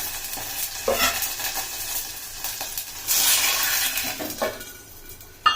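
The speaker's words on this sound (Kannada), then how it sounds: "ಇದಕ್ಕೆ ನಾವು ಮಾಡಿರ್ತಕ್ಕಂಥ ಟೊಮೆಟೊ ರಸವನ್ನು ಹಾಕು" Tomato juice poured into a hot frying pan, sizzling and frying as a spoon stirs and scrapes against the pan in bursts, fairly loud and close, with no talking.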